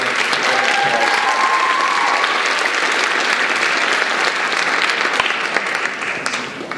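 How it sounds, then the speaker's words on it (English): Sustained audience applause fills a high school performing arts awards show, steady dense clapping from a large crowd that holds strong throughout before easing slightly at the end. "Will you give Mrs. Ron a applause?"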